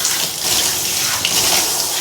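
Warm water runs steadily from a tap or shower, loud and close, as a gelatine protein treatment is rinsed out of curly hair, a continuous gushing wash with no talk.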